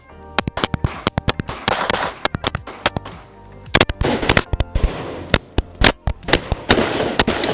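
A 5-inch Smith & Wesson M&P 2.0 pistol fires a long string of sharp, loud gunshots in quick, uneven bursts, with short pauses between groups of shots outdoors.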